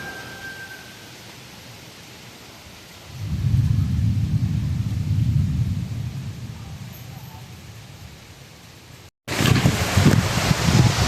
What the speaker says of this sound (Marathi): जोरदार वारा आलाय पाऊस आला